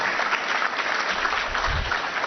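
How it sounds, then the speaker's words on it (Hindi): A hall audience applauds to thank the President at an art exhibition event, a dense continuous wash of clapping from many hands, steady and fairly loud throughout the short stretch. "जोरदार तालियों से माननीय राष्ट्रपति महोदया का आभार प्रकट करें।"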